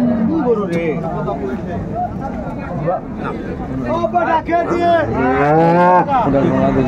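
Cattle at Raniganj haat livestock market in Dinajpur, with a cow mooing loudly and repeatedly, long drawn calls over a crowd's chatter and someone talking nearby.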